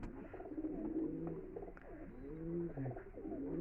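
Pigeons of a big-sized Kalpor Kaldom and Madrasi breeding pair coo repeatedly in low, rolling overlapping calls, close by, with faint chirps in the background and no talking.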